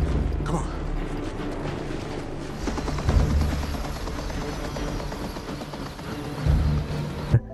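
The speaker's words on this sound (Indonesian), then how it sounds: "Lalu terdengar dari atas suara baling-baling helikopter." Helicopter rotor blades overhead in a film scene, a steady low mechanical thrum with rhythmic chopping pulses throughout, mixed with music and background effects, louder swells near the middle and end.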